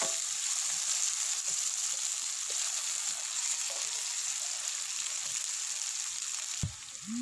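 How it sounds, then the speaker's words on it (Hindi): Potatoes and onions fry in a pan as a steady, close sizzle holds through the whole stretch with only small shifts, ending in a brief soft knock or scrape. "आलूओं को प्याज के साथ 2 से 3 मिनट के लिए अच्छी तरह पकाएंगे।"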